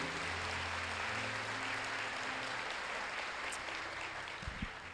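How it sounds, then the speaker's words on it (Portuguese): A church congregation applauds during a sermon, a dense, continuous wash of many hands clapping at a steady level throughout, somewhat distant in the room. "Você pode aplaudir a Jesus mais uma vez aí?"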